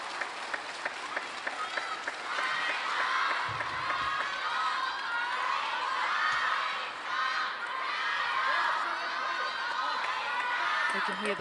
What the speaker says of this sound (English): You can hear the crowd cheering the name of Sung YINGSHA.